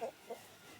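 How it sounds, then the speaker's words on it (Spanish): A hen clucks twice in quick succession, faint short calls close together, followed by quiet background. "Este es una gallina."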